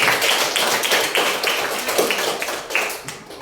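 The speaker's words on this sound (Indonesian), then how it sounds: "tepuk tangan untuk berdua." A group of children claps in applause, a dense, bright patter of many hands that swells and fades over a few seconds with no voices.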